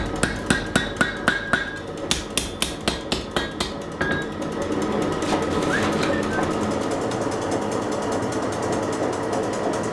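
A hammer strikes metal in a quick, steady series of sharp ringing blows while pieces are made by hand, then gives way to a continuous mechanical whir.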